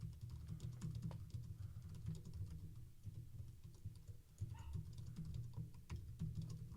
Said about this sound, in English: I'm just going to type in something along the lines of this.